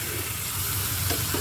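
White beans being stirred in a hot frying pan with spices, a steady hiss of sizzling with soft scraping of the spoon, brief and close.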